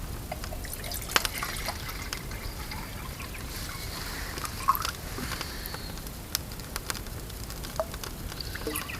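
Water, 500ml, trickling and splashing into a small pot beside a Toaks titanium wood gasifier stove, a faint steady pour with light drips and clinks, no voices.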